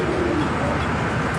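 Domestic pigeons cooing close by, low soft throaty calls repeating over a steady background.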